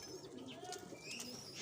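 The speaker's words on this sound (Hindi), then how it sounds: "बड़ा साइज का कबूतर है ये।" A large-breasted high-flyer pigeon coos softly in a steady low murmur, with faint chirps from other birds in the background.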